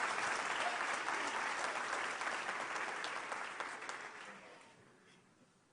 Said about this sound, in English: I've got a round of applause for our graduates